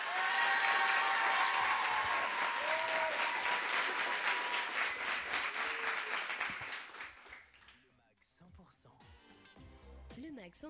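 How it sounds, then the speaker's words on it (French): Studio audience on a French live music show applauding loudly, a dense sustained clapping that fades out toward the end as music and talk come in. "Applaudissements du public."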